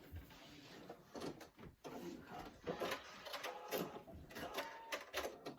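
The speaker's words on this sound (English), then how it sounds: "I'm just going to back stitch a couple just to lock it in." A sewing machine back stitching a few locking stitches on a fabric tissue box cover, giving a close, busy mechanical whir and rattle that runs steadily with small shifts in pace.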